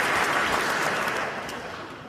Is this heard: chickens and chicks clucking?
no